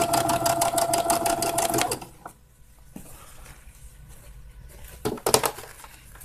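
A sewing machine doing free motion embroidery stitching hammers out a fast, loud, even run of needle strokes for about two seconds, goes quiet with small clicks, then starts another brief burst near the end.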